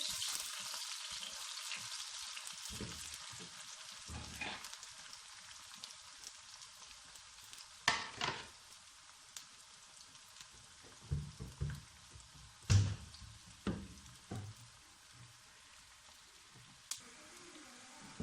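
Onions frying lightly in a pan give a steady, soft sizzle and crackle, broken by occasional louder pops and clinks of stirring as the hiss carries on at low volume.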